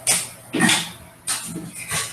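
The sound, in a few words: small dog entering the room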